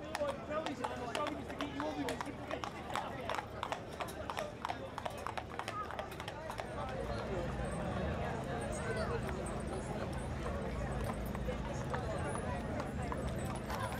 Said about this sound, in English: Seeing these horses trot up and down